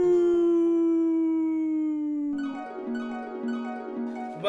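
A human voice imitates a wolf howling at the moon: one long, loud, sustained howl that slowly slides downward for about two seconds, then gives way to stepped, music-like tones.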